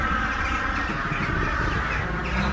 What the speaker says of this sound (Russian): Ох, смотрите, сколько ворон.